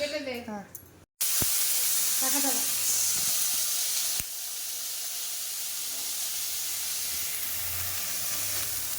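A brief voice, then loud, steady sizzling of potatoes frying in hot oil, with a single sharp clink partway through.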